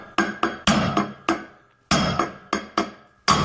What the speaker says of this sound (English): I'll tap it with a hammer.